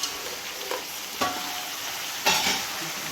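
Ingredients for dum biryani sizzling in hot oil, a steady crackling fry throughout with a few soft scraping stirs at intervals, close and fairly quiet, no talking.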